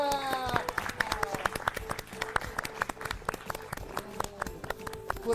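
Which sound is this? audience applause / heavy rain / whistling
audience applause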